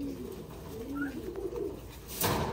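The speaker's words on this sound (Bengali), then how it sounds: "এই একটা কবুতর আছে।" A pigeon in a loft gives soft, low cooing calls, a few rounded rising-and-falling coos close by, with a brief burst of rustling near the end.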